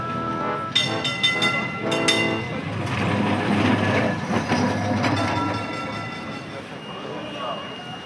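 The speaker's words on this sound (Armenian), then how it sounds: "Սա Սիրքեջիի տրամվայն է։" Tram passing at Sirkeci in Istanbul, with rhythmic clacking and a bright ringing tone early on, then a steady rumble that fades out.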